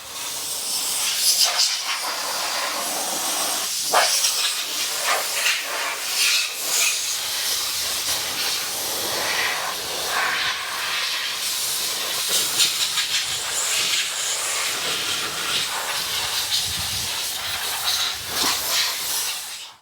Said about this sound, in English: I'm just blowing the excess water off it at the moment.